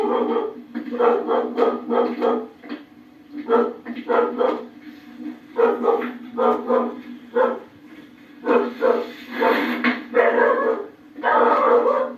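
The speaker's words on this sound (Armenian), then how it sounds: "Գնում գալիս եմ տեսնում են ինձ, անհանգստանում են, սկսում են հաչալ" Dogs bark in repeated bursts of several yips and woofs with short pauses, fairly close and loud, with voices talking in between.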